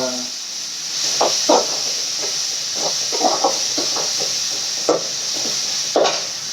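Chicken dish ingredients with ginger paste sautéing in a pan, a constant steamy hiss with occasional close scraping and stirring knocks.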